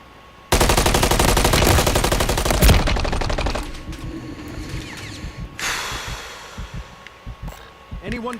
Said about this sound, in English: why is it that I'm shooting that dude